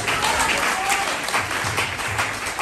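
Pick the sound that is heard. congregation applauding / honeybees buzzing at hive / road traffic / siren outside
congregation applauding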